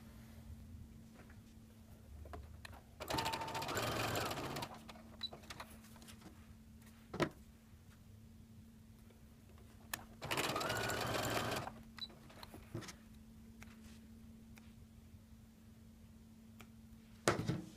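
A sewing machine stitches quilt frame pieces with a quarter-inch seam in two short, steady bursts of whirring, separated by quiet pauses with faint handling clicks.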